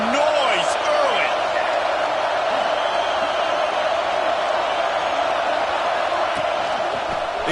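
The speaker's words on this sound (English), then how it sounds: "This crowd bringing the energy and noise early." Loud, continuous roar of a football stadium crowd at a college game, dense and sustained with scattered whoops and shouts rising from the mass of noise.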